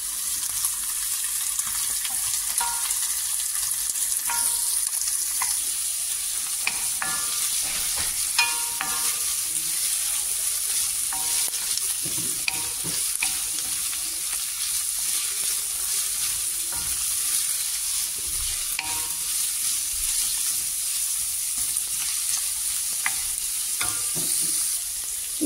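Chopped ginger, green chilli, carrot, onion, beans, curry leaves and chilli fry and get stirred in a pan for rava upma mix, a steady sizzle with scraping stir strokes throughout, no talking.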